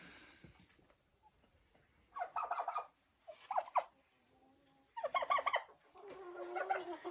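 Turkeys sitting in a polycarbonate greenhouse let out several short gobbling bursts, with quiet pauses between them, fairly close and alone without talk.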